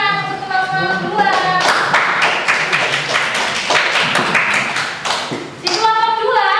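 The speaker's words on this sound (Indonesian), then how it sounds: "Tepuk tangan untuk kelompok kedua." Applause from a classroom audience for the second presenting group, a dense burst of clapping lasting several seconds, with a voice speaking just before and after it.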